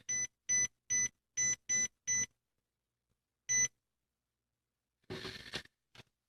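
A slow cooker timer is being set on a dish of paleo short ribs, giving six quick, evenly spaced electronic beeps and then one more after a pause. They are close and clear, followed by brief handling clatter.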